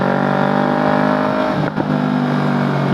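Steady, loud engine drone of a Yamaha YZF-R3 motorcycle held at high RPM, with a brief dip and catch partway through as the revs drop, then continuing strong.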